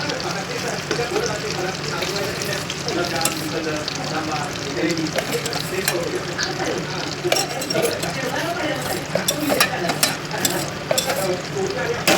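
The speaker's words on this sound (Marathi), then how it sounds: "हा खवा चांगला मेल्ट होईपर्यंत आपल्याला परतून घ्यायचा आहे" Khoa frying in ghee for mango barfi, heard as a continuous close sizzle with busy scraping and stirring of a spoon against the pan, clicks growing sharper toward the end.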